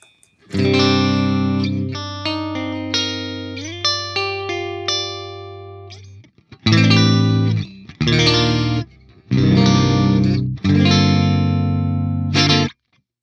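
Electric guitar through a Line 6 Helix amp and cab model, clean-to-lightly driven, plays a sustained chord sequence, then several short choppy strummed bursts separated by brief gaps.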